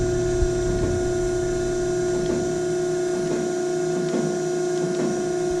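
Durma plate rolling machine working a steel plate, a steady loud mechanical hum with a tonal drone and faint periodic clicks and taps as the rolls turn.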